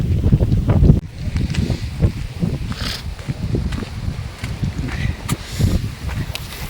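Strong gusty wind buffets the microphone in loud, uneven bursts of low rumbling roar with a faint rustle beneath, continuing throughout without any talking.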